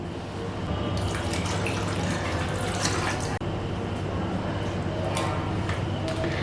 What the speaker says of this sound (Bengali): এখন আমি এর মধ্যে দিয়ে দিচ্ছি পরিমাণ মতন জল। এখানে আমি 1 কাপ জল দিয়ে দিচ্ছি।